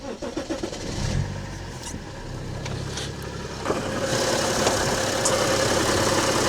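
A BMW 335d diesel engine cranks and catches, then settles into a steady, rumbling idle close by, with a few mechanical clicks and a slight rise in revs.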